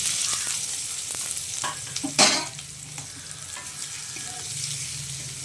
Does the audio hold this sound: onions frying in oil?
yes